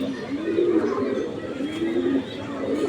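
Giribaz high-flyer pigeons coo in a low, continuous murmur, several birds overlapping in a steady rolling hum at close range.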